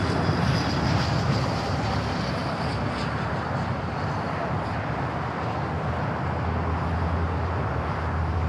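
A Turkish Airlines Boeing 777-300ER passes on short final into Los Angeles International Airport with a continuous low jet-engine rumble and a faint high whine, fairly distant and even throughout.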